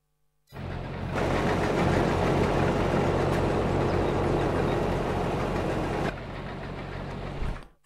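A tractor engine idles in the farming game Landwirtschafts-Simulator 22, starting abruptly with a dense, loud, rumbling drone that holds steady, thins slightly after six seconds, then cuts off.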